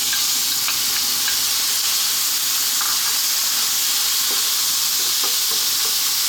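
Chopped fresh tomatoes fry in a hot pan for Arab-style fish biryani, giving a loud, continuous close sizzle and hiss with small scattered pops and crackles throughout.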